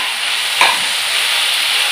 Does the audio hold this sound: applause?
no